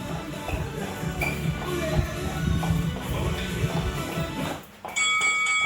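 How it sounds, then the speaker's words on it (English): A workout interval timer bell rings out in a bright, sustained tone near the end of a boxing fitness session, after a stretch of busy background sound and a brief dip. "there's our bell"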